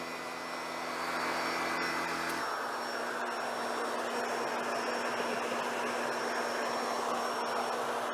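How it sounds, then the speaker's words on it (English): Shark corded vacuum cleaner whining steadily, then ramping up to a louder, fuller roar as it switches from the hard floor setting to the carpet setting, running close and continuous with no talk. "So just to demonstrate the sound of this vacuum when it is on its hard floor setting, and this is on the carpet setting."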